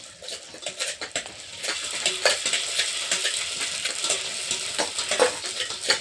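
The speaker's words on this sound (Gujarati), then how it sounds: "આપણે ઘરે આવી રીતે ઘરે પૂરી તળીને આપણે પાણી પૂરી બનાવીએ છીએ" Puris deep-fry in hot oil at home for pani puri, a continuous close sizzle with light clinks and stirring scrapes from the pan, no talking.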